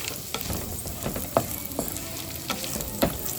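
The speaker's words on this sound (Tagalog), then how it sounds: "kailangan halo ka ng halo para hindi siya masunog" Small pieces of food sizzle steadily as they fry in a pan, while a utensil stirs them with intermittent scraping clacks against the metal.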